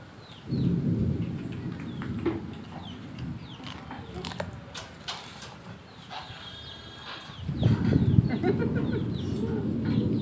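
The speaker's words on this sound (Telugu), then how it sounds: "వర్షం వచ్చినట్టే వస్తుంది ఆగిపోతుంది" Rain hisses steadily while two deep rolls of thunder rumble, one early and one near the end, with a faint bird call in between, during a lightning storm.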